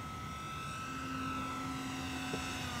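An FMS Mirage 4000 model jet flies on its maiden flight in Denmark, a steady loud whine with a rising tonal hum that holds through the whole span, no talk over it.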